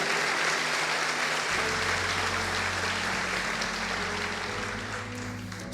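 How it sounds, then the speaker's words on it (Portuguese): Congregation applauding during a church celebration service, a dense, steady wash of clapping that stays loud throughout, with a low sustained musical drone beneath it. "Dê um aplauso ao Senhor com uma alegria."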